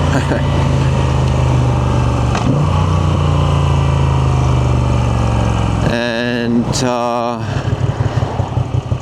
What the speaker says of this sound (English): the sound of the engine is great